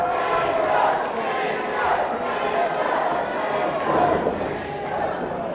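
A wrestling arena crowd roars and chatters in a dense, sustained wash of voices, swelling in waves, with commentators talking over it.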